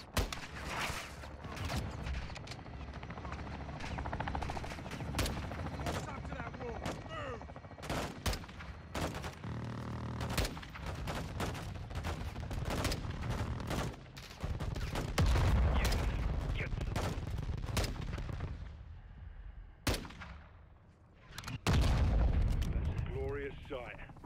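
Gunfire and an air strike in the Call of Duty Modern Warfare 2 campaign on PS5: sustained loud volleys and heavy booming explosions, with radio-style voices talking over the battle.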